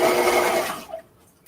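A sewing machine stitches a seam on clear vinyl for a bag overlay, a brief dense mechanical whir that runs loud and steady, then stops short, leaving near silence.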